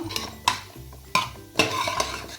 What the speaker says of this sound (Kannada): ಹಾಗಲಕಾಯಿನ ಈ ಥರ ಆಯಿಲಲ್ಲಿ ನೀಟಾಗಿ ಫ್ರೈ ಮಾಡ್ಕೋಬೇಕು